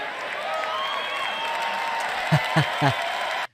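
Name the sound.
crowd applause at a political speech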